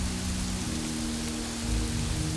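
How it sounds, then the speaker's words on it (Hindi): Heavy rain pouring steadily in a dense, continuous hiss with an even, unbroken loudness throughout, as a background effect for a horror story, with no voices. "बारिश अभी भी तेज़ हो रही थी।"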